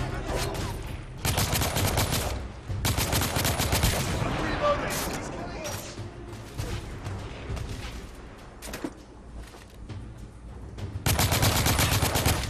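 Heavy gunfire in the video game The Order 1886, with long bursts of automatic fire and booming shotgun blasts coming in loud waves, broken by short lulls, while a player talks over the action.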